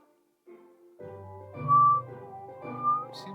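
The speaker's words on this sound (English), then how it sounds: "Because of my ear-piercing whistling." A person whistles a short, shrill tune of sustained, piercing notes that rise and fall in pitch, close and loud, with no talking.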